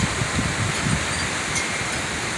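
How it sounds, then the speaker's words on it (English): Hurricane-force wind roars steadily at night in Spring, Texas, a dense, continuous rushing noise with no pauses or voices. "we're having hurricane force winds here in Spring, Texas"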